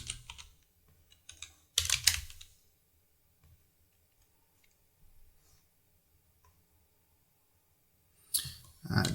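Short bursts of clicky typing on a Mac computer keyboard as a command is entered, a couple of louder clusters of keystrokes separated by near-silence and faint scattered taps.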